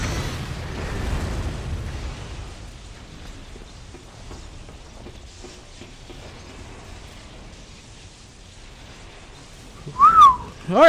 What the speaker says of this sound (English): I haven't whistled my mic before.